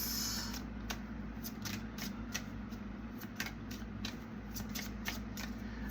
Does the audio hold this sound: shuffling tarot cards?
yes